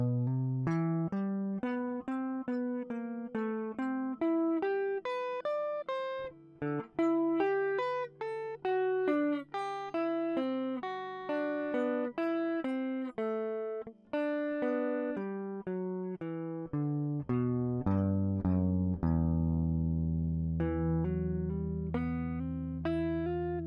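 Solo guitar playing a memorized piece slowly, a continuous run of clear plucked notes and sustained tones with short pauses between phrases, close and alone.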